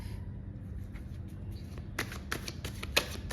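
A deck of tarot cards being shuffled close by: quiet handling at first, then a run of quick, crisp riffling bursts with no talking.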